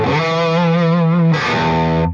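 Electric guitar through a Timmy overdrive followed by a Klon pedal on a VP4 sings one loud, sustained, driven note with vibrato, then shifts to a brighter held note before cutting off.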